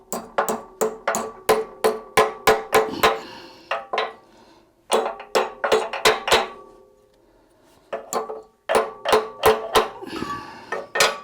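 A hammer taps a Land Rover Defender TD5 mirror part held in a vise, sharp metallic strikes in quick rhythmic bursts of about eight to ten blows, broken by short pauses.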